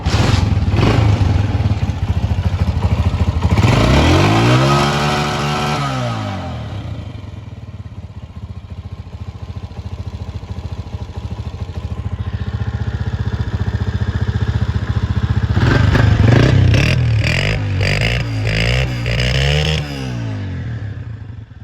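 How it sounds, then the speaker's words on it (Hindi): A 2018 Honda CG 125 motorcycle engine in excellent condition runs steadily nearby, with two rising-and-falling revs that swell and then drop back to a clattering idle. "हम अभी स्टार्ट करेंगे बाइक और आपको साउंड चेक करवाएंगे कि मोटरसाइकिल का साउंड किस तरह का है"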